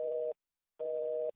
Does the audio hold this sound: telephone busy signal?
yes